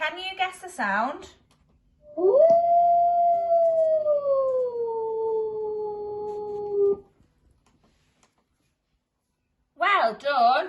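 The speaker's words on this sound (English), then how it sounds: "It's a wolf." A wolf howls in one long, sustained, gliding call lasting several seconds, rising at the start and slowly falling, heard alone between stretches of talk before and after.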